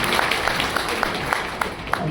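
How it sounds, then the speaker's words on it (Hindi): Loud applause for a new performer at a stage show, a dense, steady wash of clapping from a crowd with a few sharper claps standing out, close and continuous throughout. "इनके लिए जोरदार तालियां"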